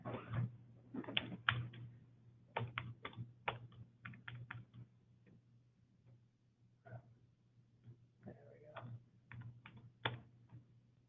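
Bursts of keyboard typing, quick clusters of clicks separated by short pauses, close and fairly quiet over a low steady hum.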